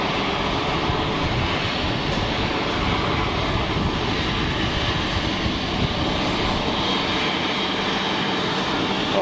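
A steady, loud roar of an airplane's jet engines at Geneva Airport, continuous broadband rumble that holds level without a break, no voices over it.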